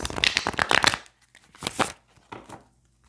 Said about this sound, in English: I'm just going to see one more shuffle before we move on to the oracle cards